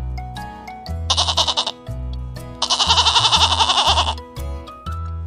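Two loud, close goat bleats, each a quavering, wavering cry, separated by short pauses over a low steady hum.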